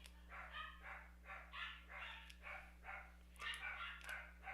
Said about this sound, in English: My doggies are barking. I know you can hear them.